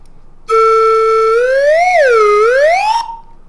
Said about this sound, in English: I'll play it with my slide whistle right along with you